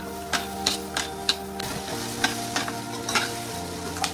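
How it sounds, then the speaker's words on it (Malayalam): Shallots and sundakai frying in a pan for a South Indian masala curry, a strong close sizzle punctuated by rhythmic clicks of a spoon stirring and tapping the pan, with no talking. "ചെറിയ ഉള്ളിയിട്ട് നിറം മാറുന്നത് വരെ ഇളക്കി കൊടുക്കുക."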